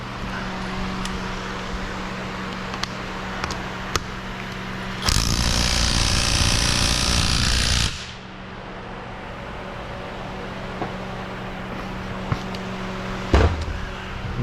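An impact gun hammers away at a stubborn transmission bolt on a MINI Cooper in a steady burst of about three seconds, set against a quiet shop hum with a few scattered clicks and knocks.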